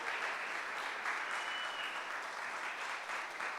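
A church congregation claps through a Spanish-language worship service, a steady, even wash of applause that sounds somewhat distant and soft and runs without a break.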